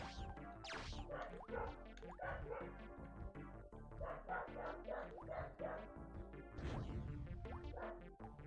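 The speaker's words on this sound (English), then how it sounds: "those dogs are not mine. I don't have dogs. I like dogs in general, but I don't like when they bark." Dogs bark repeatedly in the background, yips and whimpers scattered through a steady hum of game audio from Hocus Pocus, faint and somewhat distant.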